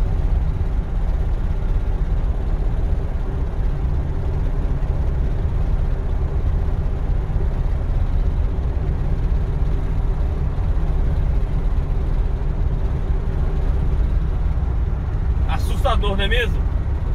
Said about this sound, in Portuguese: A janela traseira entreaberta ou mal fechada, ela faz barulho.